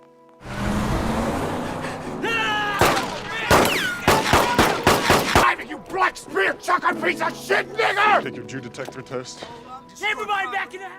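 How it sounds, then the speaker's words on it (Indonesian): Gunfire in a film chase scene: a rapid volley of loud, sharp shots, then scattered bursts and clatter over engine and action noise, with a voice heard partway through. "Felix dan Flip mengejar Ron dengan menembaknya."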